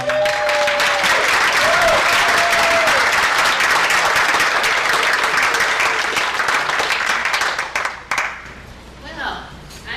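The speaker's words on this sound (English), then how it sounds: "Everyone, let's give a round of applause for Carol Penning." Loud, sustained applause and clapping from a gala audience, dense and continuous before tapering off near the end, with voices and a brief whistle-like tone mixed in.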